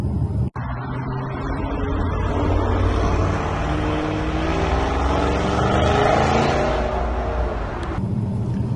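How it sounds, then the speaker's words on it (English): A modified 750bhp Audi RS7 accelerates from 40 to 60 mph on a UK road under part throttle, its engine note rising smoothly and loudly in pitch with a steady, close roar. "Literally, I'm just feathering the accelerator and just straight up to 60, and it's effortless"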